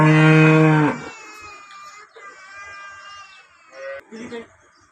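A cow gives one loud, deep moo up close, then someone talks quietly over a calm background.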